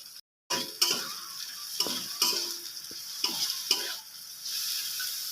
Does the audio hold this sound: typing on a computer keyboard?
no